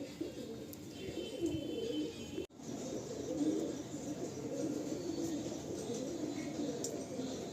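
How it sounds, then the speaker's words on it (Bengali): Black Malwai pigeons coo in low, repeated throaty murmurs, close by and fairly steady, over a rainy outdoor background hiss with a brief dropout partway through. "এরকম কালো মালবাই পায়রা খুব কম দেখা যায়"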